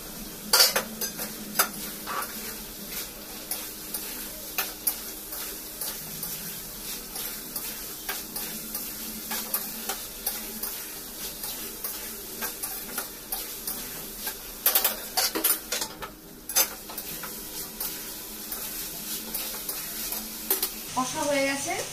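Chicken and spices stir-fry in a pan for chicken reshmi, a steady close sizzle broken by repeated scraping and clinking of a spatula against the pan, with faint talk now and then.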